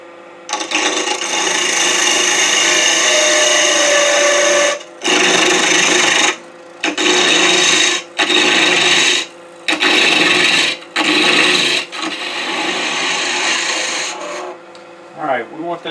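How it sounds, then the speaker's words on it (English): Skew chisel taking a planing cut on spinning wood on a lathe while turning a small gnome ornament, a loud continuous rasping scrape broken by several short pauses as the tool lifts off and re-engages. "I'm going to use my skew, take a planing cut"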